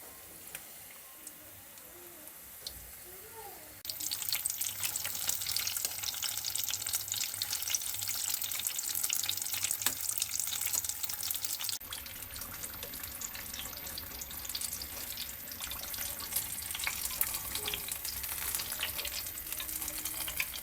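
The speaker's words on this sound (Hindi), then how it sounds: "मीडियम टू लो फ्लेम पर स्प्रिंग रोल को फ्राई करेंगे।" Chicken spring rolls fry in hot oil over a medium-to-low flame. After a few quiet seconds of faint kitchen noise, a loud, dense, crackling sizzle starts and continues unbroken to the end.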